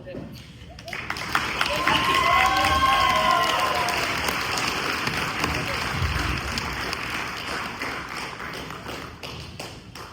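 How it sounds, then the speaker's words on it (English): At a graduation ceremony for St. Edward's Catholic Preparatory Academy, the audience erupts after a second of quiet into sustained, loud applause with scattered cheers, slowly easing off while the clapping continues. "One more round of applause for those amazing speeches from each one of us"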